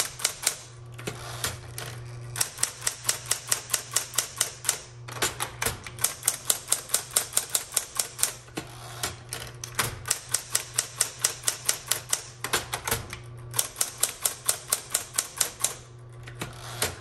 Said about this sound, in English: I like this typewriter.